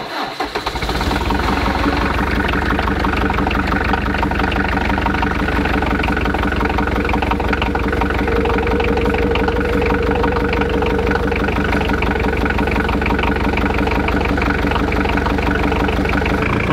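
A diesel Jeep engine in extreme winter cold cranks briefly, catches and then settles into a loud, steady, rough idle with a knocking diesel clatter that runs close and continuous to the end.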